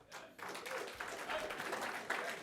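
A press conference crowd applauds, clapping that is quite faint and distant yet builds to a steady, dense patter for a couple of seconds.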